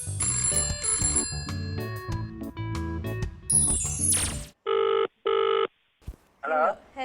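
A telephone rings in two short electronic bursts as a call is put through in an office, following music and chimes, with a brief voice at the end.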